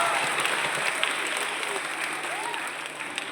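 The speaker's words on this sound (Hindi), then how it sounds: "ये बच्चे के लिए एक जोरदार ताली बजाओ" An audience at a magic show by the magician M.K. Pandit claps for a child, a dense, steady round of applause that fills the space and fades slightly toward the end.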